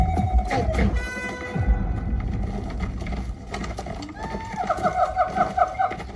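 A horse clip-clops and whinnies in a jungle adventure comedy scene, with shrill neighs rising over a busy, rumbling background and some voices mixed in.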